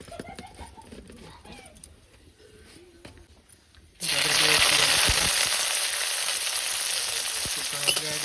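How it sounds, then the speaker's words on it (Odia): Tempering for fish dalma bursts into a loud, sudden sizzle as it hits the hot dish, holding a steady hiss after a quieter stretch with birds cooing in the background. "ତା ଦେହରେ ଫୁଟଣ ଟିକେ ପଡ଼ିବ।"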